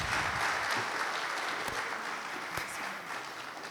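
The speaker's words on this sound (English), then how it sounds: "please, a round of applause for Monica Arao" Conference audience at a Pan-African payment system roadshow event in Ghana applauding a speaker, dense steady clapping throughout at moderate distance, gradually easing.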